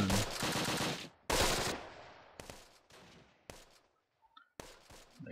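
Machine gun fire in Close Combat: The Longest Day: long loud bursts up front, then shorter scattered volleys and single shots fading into more distant fire.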